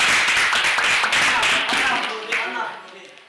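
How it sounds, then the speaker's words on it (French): Audience in a French-speaking hall claps together for a visually impaired guest, a dense burst of hand claps that stays steady, then thins and fades over the final second. "Est-ce qu'on peut l'applaudir, s'il vous plaît?"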